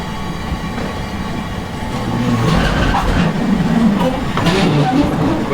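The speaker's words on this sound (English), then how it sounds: "The train is coming." A metro train rolls into an underground station at Pershing Square in Los Angeles, its steady rumble and rail clatter swelling louder midway as it draws near, with a faint voice briefly heard beneath.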